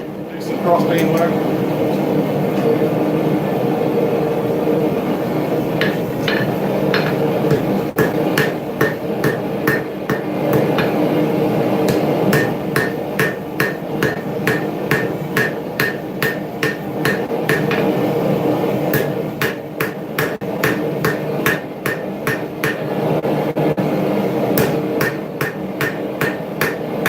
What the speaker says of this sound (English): Bring out my fancy hammer.